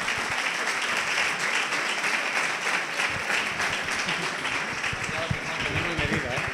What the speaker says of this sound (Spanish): Otro aplauso más fuerte